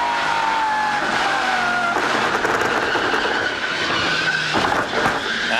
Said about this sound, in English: That sounds like wheel hop.